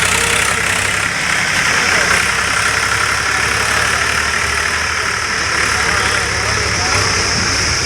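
A JCB machine loading soil runs its engine in a steady, loud, continuous rumble with no pauses, close by throughout.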